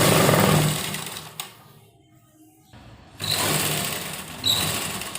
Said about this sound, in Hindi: अपनी पूरी पजामी में ये हमें गोल सी सिलाई देनी है।